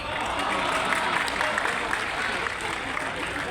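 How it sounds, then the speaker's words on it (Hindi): Audience applause at a poetry recital, a dense, even wash of clapping from a large crowd that holds steady throughout. "और तालियां तो यहाँ पर बजाना"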